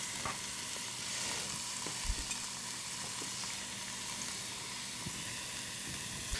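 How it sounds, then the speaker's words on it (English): Meat for chili sizzles steadily in a frying pan, a dense close hiss and crackle with occasional soft stirring clunks and no talking. "So you can hear the sizzle of the frying pan, so I'm going to go ahead and add my meat into it as well."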